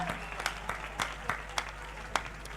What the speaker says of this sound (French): And you are giving God a little clap offering.